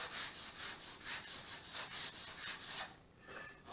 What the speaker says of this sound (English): now what we have to do is we've got to do a little sanding. I want to sand these grooves out